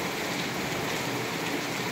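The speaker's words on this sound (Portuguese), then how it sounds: "Chuva de pedra aqui, ó." Dense, constant rattle of hailstones pelting surfaces nearby during a heavy hailstorm, an unbroken loud hiss without any talking.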